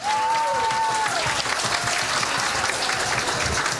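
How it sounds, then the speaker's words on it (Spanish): An audience at a San Juan night event in Chiloé applauds steadily, dense clapping at full strength throughout, with a brief tonal voice or whistle over the start. "Más fuerte el aplauso para despedir a Enrique en esta primera presentación."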